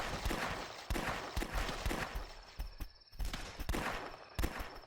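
Rapid gunfire in The Last Stand game, a steady string of sharp close shots fired in quick succession with brief pauses between volleys.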